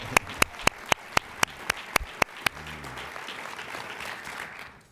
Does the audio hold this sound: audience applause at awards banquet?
yes